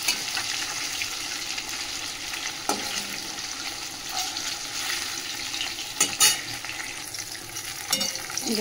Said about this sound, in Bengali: দেখো বন্ধুরা, ভালো করে লাল করে তো ভেজে নিলাম।